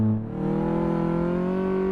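Car engine in Car Mechanic Simulator 2018 on a suspension test, a steady droning hum that rises gently in pitch as the car drives on, held at an even level without talk.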